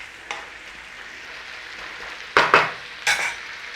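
Brussels sprouts, chestnuts and pancetta with a squeeze of lemon juice cook in a pan, a faint low sizzle under a few sharp scraping stirs near the end.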